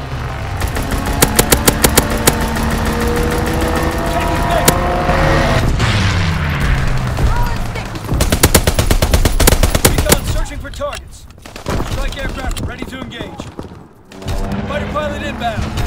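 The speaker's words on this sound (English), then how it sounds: "Strafing run inbound." A strafing run in Call of Duty: WWII tears through a loud barrage of rapid machine-gun fire and booming impacts, with dense bursts, short gaps and renewed volleys, while voices talk faintly in the mix.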